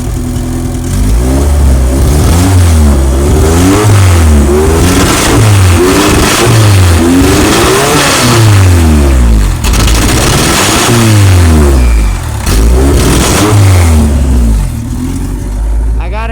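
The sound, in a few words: tuned car engine with LS VTEC revving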